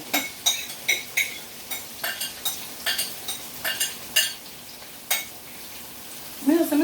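Tin mackerel frying and being stirred in a pan for a Jamaican-style meal, with a steady sizzle under repeated scraping strokes of a utensil, close by, and brief voices near the end.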